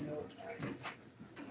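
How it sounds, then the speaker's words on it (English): A male cricket in the corner of a room chirps in a regular train of short, bright, evenly spaced pulses, fairly close and distinct, while a low voice murmurs faintly underneath. "There is a male cricket somewhere in the corner of the room."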